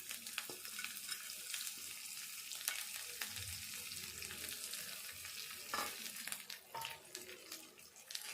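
A potato mixture with turmeric and coriander leaves stirred in a pan for potato chapati filling, soft sizzling under repeated scraping strokes of a spoon against the metal, fairly quiet, with no voices.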